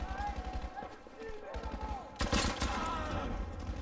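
Bursts of submachine gun fire in Battlefield V, a German SMG rattling in short rhythmic volleys, followed by a louder sustained burst with explosion-like noise in the background.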